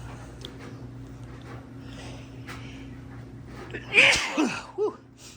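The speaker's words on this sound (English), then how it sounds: "Oh, I gotta sneeze again." A quiet room hum, then a sudden sharp sneeze up close, followed by a couple of smaller sniffs or snorts.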